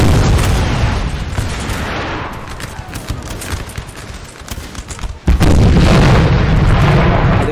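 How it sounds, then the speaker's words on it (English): Artillery and musket fire pound a line of troops during a Napoleon Total War battle at Friedland, a constant crackling roar of shots with one sudden heavy booming blast near the end, loud and close. "These guys, they're getting focused by artillery."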